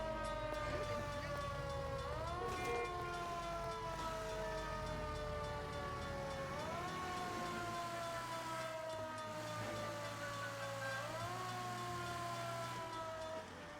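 A police car siren wails in L.A. Noire, rising and falling in long sweeping cycles over a low rumbling engine drone, loud and continuous throughout with no talking.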